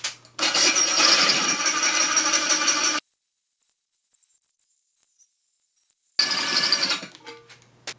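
A cheap drill bit grinds into tile in a harsh, loud whirring buzz that cuts out abruptly for about three seconds, then resumes before trailing off, close and without talk.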